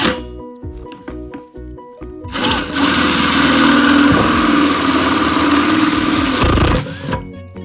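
A power drill whirs steadily for several seconds, boring holes in the bottom of a 5-gallon plastic bucket, loud and close, with brief clicks and taps before it starts and after it stops.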